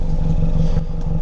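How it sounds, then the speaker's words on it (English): VW Golf Mk6 1.4 TSI with a sports cat downpipe idling, its exhaust giving a close, loud, steady low burble with fast even pulsing and slight clatter, heard alone. "I'll show you guys the sound of the exhaust right now."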